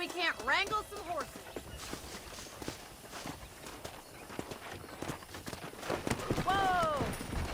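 Horse hooves clip-clopping and running in the Red Dead Redemption western video game, a steady patter of hoofbeats under shouted voices and a horse's whinny at the start and end.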